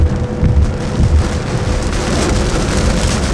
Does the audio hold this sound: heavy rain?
yes